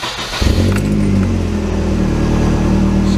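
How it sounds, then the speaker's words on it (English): Nissan 240SX with a KA24DE engine cranks briefly and catches, then settles into a steady, close idle hum; the engine is known to show low oil pressure. "I'm going to go ahead and crank up the car"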